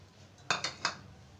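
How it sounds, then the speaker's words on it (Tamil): Ice cubes drop into a glass for fresh lemon juice, making three sharp, separate clinks in quick succession against a quiet kitchen background. "Ice cube போட்டுக்கிறேங்க."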